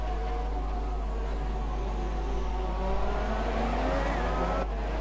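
F1-style race cars from a racing video game at Bahrain, in an F3 series race, droning with a steady high engine whine that holds loud and continuous throughout, with no voices.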